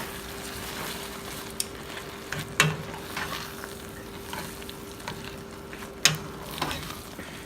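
Asparagus and spinach risotto with lemon zest and parsley being stirred in a pan, a low bubbling sizzle with soft spoon scrapes and two distinct louder clanks against the pot.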